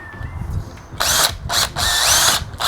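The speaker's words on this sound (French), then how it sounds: "on n'a plus qu'à percer, on y va doucement." A power drill bores slowly into wooden battens for a headboard with integrated LED lighting, loud close bursts starting and stopping in three runs after a quieter lead-in.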